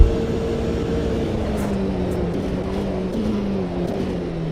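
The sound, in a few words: race car engine in the racing game Automobilista 2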